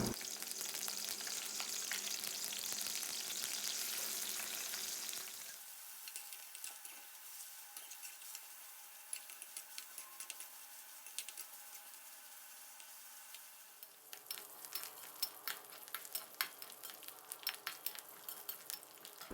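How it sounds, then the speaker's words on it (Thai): Loud, steady frying sizzle of pork belly in hot oil for about five seconds, then a quieter crackle with scattered pops and stirring scrapes continuing to the end. "แล้วก็ให้เราผัดหมู 3 ชั้นของเรานะครับ ให้สุกเหลืองเข้มเลยนะครับ"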